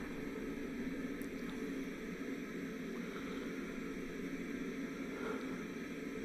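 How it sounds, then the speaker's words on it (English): A small white noise machine hisses steadily and evenly in a home, a soft constant broadband wash with no breaks. "That sound in the background is my little white noise machine that we use to help block out some of the noise"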